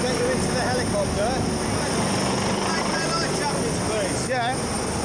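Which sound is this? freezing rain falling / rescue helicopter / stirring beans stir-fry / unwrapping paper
rescue helicopter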